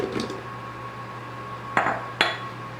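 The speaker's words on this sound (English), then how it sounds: "So in this large bowl, I'll combine the strawberries" Strawberries and rhubarb tipped into a large bowl for a strawberry rhubarb pie, giving two sharp clinks of fruit and utensils against the bowl close up over a low steady kitchen hum, with no talking.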